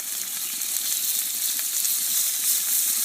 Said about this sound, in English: I'm going to put some oil onto my cast iron skillet here.